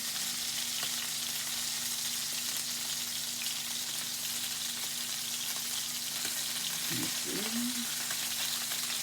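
Beef tenderloin steak fries in a hot pan with a steady, close sizzle that holds evenly throughout, plus a faint steady hum beneath it and a brief low knock near the end.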